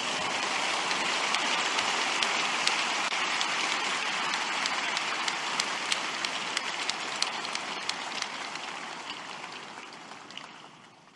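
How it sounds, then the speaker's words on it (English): Church congregation giving a big clap offering at a service, sustained dense crowd applause filling the whole stretch, loud and steady, then gradually tapering toward the end with no talk over it. "Give the Lord a big clap offering."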